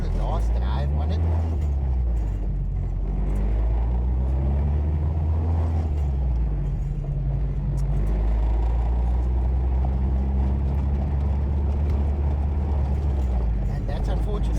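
A Citi Golf 1.8T on semi-slick tyres drives steadily, its engine a constant low rumble that rises and falls slightly, heard from inside the car with talk over it.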